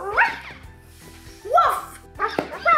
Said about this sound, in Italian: Occhio all'abbaio.